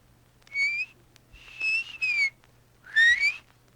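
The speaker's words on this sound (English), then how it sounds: "I can whistle." Several short whistled phrases, rising and falling tones in three bursts separated by brief pauses, clear and close with a faint hum underneath.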